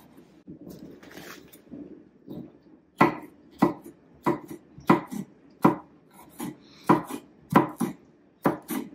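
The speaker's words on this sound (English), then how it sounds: "Now I'm just going to chop it." A knife chops food on a board in a home kitchen, first soft irregular cuts, then a steady run of about a dozen sharp, close knocks, with no talking.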